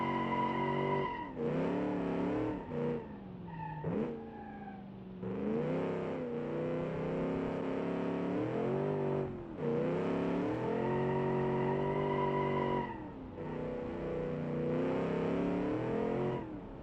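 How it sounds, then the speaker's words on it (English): A video game car burning its tires: long tonal tire squeals and engine revving in sustained waves, broken by short gaps and sharp pitch dips as the throttle lifts and comes back. "every time you put your foot down, this thing just smokes the tires"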